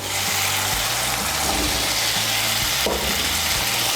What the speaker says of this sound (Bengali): এখন এর মধ্যে দিয়ে দেব ভেজে রাখা আলুগুলো